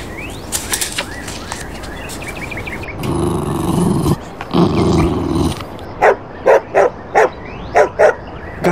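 A dog growls low, then lets out a series of sharp, evenly spaced barks close up, used as a sound effect in a read-aloud story.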